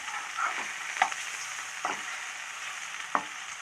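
Sankara fish shallow-frying in a small amount of oil, a soft steady sizzle broken by a few sharp spatula clinks and scrapes as the pieces are moved, close by and with no voices.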